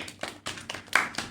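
A handful of scattered hand claps from a small group in a podcast studio, sparse and uneven, close by and moderately loud with no talking.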